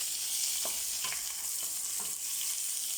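Ginger garlic paste hits a pan of frying chicken and onion paste for biryani, giving a steady hissing sizzle with a few soft stirring scrapes and no talking.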